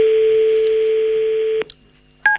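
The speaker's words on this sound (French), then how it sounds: "On va l'appeler tout de suite, Colette, parce que..." A telephone line gives a long steady tone, then falls silent briefly before a short dialing beep sounds, all loud and close.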